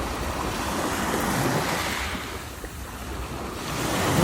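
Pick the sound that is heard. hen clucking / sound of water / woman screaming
sound of water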